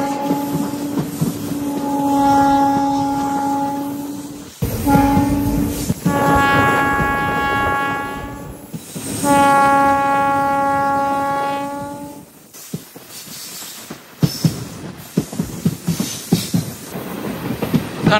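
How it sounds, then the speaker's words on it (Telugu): Tirupati–Villupuram Express train running, its horn sounding in long harmonic blasts twice, near and loud over steady rumble, followed by rhythmic clattering of wheels over rail joints. "ప్రతిరోజు నడిచే ఒకే ఒక ట్రైన్ ఈ ట్రైన్, తిరుపతి విల్లుపురం ఎక్స్ప్రెస్"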